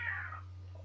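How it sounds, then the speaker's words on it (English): Cats fighting outside let out a brief distant yowl, faint and muffled over a steady low electrical hum indoors. "We got some cats fighting outside, if you heard that."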